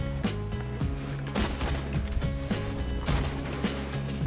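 Pistol shots and mechanical clacks from the cowboy campaign of the VR game Pistol Whip fire in quick bursts over a thumping backing track, loud and punchy.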